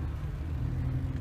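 Car engine rumbling steadily while driving, a low continuous drone with road noise and no talk, fairly quiet throughout.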